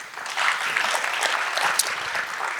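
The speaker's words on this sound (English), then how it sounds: "Let's clap it up for that first answer." A conference audience at a public-private partnership panel claps in a steady, dense burst of applause that carries evenly for a few seconds.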